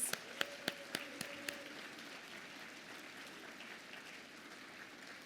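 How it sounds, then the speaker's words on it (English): An awards gala audience applauds, led by several sharp, rhythmic claps near the start that give way to softer, diffuse clapping fading across the room. "Give them another round of applause."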